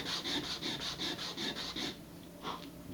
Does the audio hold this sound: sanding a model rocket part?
yes